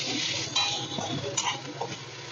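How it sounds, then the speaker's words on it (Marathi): Shrimp frying in a pan with very little oil for a crisp, spicy prawn fry, giving a steady close sizzle with light scraping and stirring noises and no voices. "आता फ्राय होऊ दे याला"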